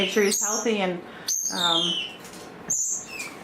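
A budgie chirps indoors in a bird room, with three short bursts of high, sweeping chirps spaced a second or so apart while a person talks nearby.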